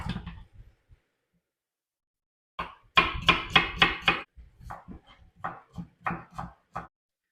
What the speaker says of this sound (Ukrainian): Поки курка смажиться, наріжу цибульку.